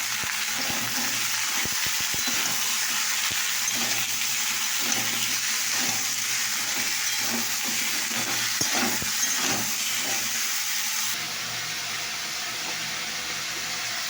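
Flat beans and potatoes frying with salt, turmeric and mustard in a pan are stirred, giving a continuous sizzling hiss with regular soft scrapes of the spoon, steady and close until the stirring stops.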